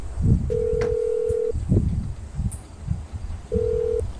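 Phone dialing in the video game GTA 5: two long electronic dial tones separated by a pause, sounding over low game background noise and soft thuds.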